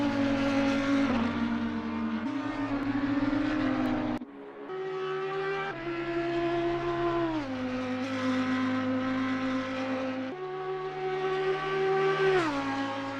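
Race cars in a simGT sim racing game at Watkins Glen brake for the chicane on a damp track, loud steady engine tones falling and shifting as several cars pass in sequence, without talk.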